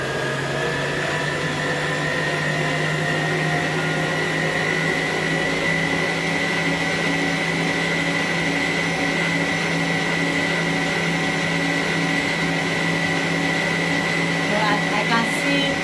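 An electric mixer whips white buttercream icing, giving a steady, loud motor whir with an unbroken hum that holds constant throughout.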